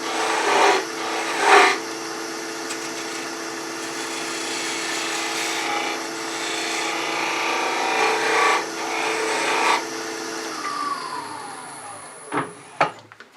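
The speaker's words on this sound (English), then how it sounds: "we probably ought to finish our sanding" Continuous hum of a spinning lathe with sandpaper rubbing steadily against a turned wooden egg, a few louder scrapes, winding down at the end.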